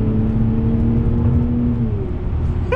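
A V12 BMW 760Li with a straight-pipe exhaust pulls hard, its engine note a steady, loud drone that holds and then shifts slightly lower near the end, heard close from inside the car.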